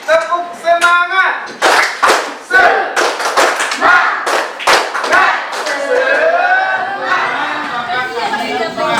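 Schoolchildren in an Indonesian classroom clap a rhythmic spirit-clap pattern together, sharp repeated bursts mixed with shouted chanting and lively group voices throughout.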